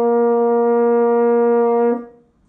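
A single sustained French horn F, fingered with the first valve, rings steady and clear for about two seconds, then fades out and stops.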